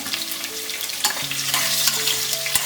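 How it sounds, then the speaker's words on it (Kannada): Onions frying with whole spices such as star anise and cloves in a pan, a steady close sizzle with a few soft stirring scrapes and faint tonal hums underneath, no voices. "ಈರುಳ್ಳಿ ಚೆನ್ನಾಗಿ ಫ್ರೈ ಆಗಬೇಕು."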